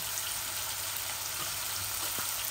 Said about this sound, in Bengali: আর আমার জিরাগুলো আমি ইচ্ছা করি লাল করছি